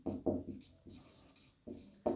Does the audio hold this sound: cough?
no